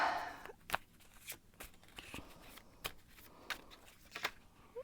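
Tarot cards being shuffled by hand, soft irregular riffles and flicks of card stock, close and quiet, with a brief breathy sound at the start and no speech.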